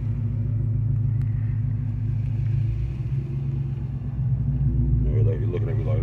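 A loud truck engine rumbles steadily with deep low vibration, swelling briefly as if revving, while a voice talks over it.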